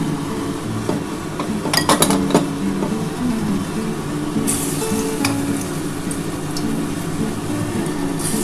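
Lentil fritters made from red masoor dal frying in hot oil, a steady close sizzle with occasional metal clinks of a utensil against the pan, no talk.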